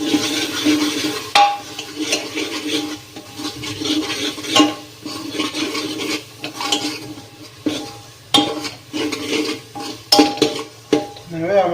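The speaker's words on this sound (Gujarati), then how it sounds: "ટોપરાનું છીણી લીધેલું છે એ એડ કરી દઈશું. સારી રીતે મિક્સ કરી દઈશું." Grated coconut is stirred into a green pigeon pea curry in a pan: close, irregular scraping strokes of a spoon with occasional metal clinks and faint sizzling.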